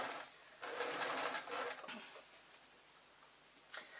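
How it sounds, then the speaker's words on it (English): A sewing machine runs in short bursts as it stitches a lined grab bag through three fabric layers, a quick mechanical whirr that starts and stops a few times, close by and fairly quiet. "I'm going to just ask the machine to start sewing"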